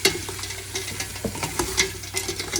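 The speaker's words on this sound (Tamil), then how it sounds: "நண்டை போட்டு நல்லா பிரட்டி விட்டுட்டு" Crab being stirred and fried in a pan for a Tamil-style crab curry, with a steady wet sizzle and scraping spoon strokes close up, no voices.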